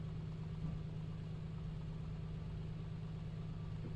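Piper aircraft engine in Microsoft Flight Simulator 2020 held at 1800 RPM, a quiet steady low hum that runs unbroken for a few seconds with no talking.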